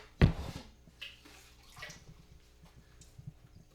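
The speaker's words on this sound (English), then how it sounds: "And I just add water." Fresh water tipped into a medaka fish container, a sharp splash at the start followed by softer trickles, drips and small gurgles, close and fairly quiet with no talking.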